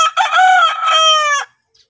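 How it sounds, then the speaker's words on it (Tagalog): An old rooster with a split beak crows once, loud and close, in a rural province setting; a single full cock-a-doodle-doo call lasting about a second and a half, followed by quiet. "Napakagandang manok."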